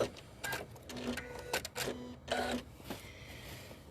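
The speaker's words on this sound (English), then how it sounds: "The amount of work my machine gets, if it didn't make noises, I'd be worried." A hard-worked machine runs with intermittent whirring bursts and short mechanical passes, a steady low hum beneath, close and moderately loud with no talking.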